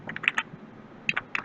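Close, crisp clatter of fingers typing on a computer keyboard: two short bursts of rapid clicks separated by a brief pause, with no voice over them.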